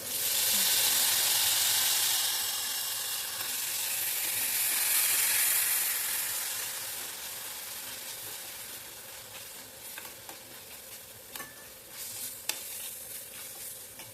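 Barnyard millet (bhagar) is stirred and sautéed in hot tempering in a pan, giving a loud, steady sizzle that gradually softens, with occasional spoon scrapes and taps toward the end and no talking.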